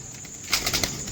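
Close wing flaps from a small, lightweight pigeon among kept breeding birds, a few quick rustling beats in a brief burst against a quiet background.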